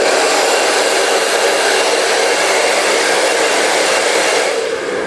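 A hair dryer blowing steadily while hair is blow-dried with a brush gives a loud, close, continuous rushing whoosh that dips slightly at the very end, with no talking.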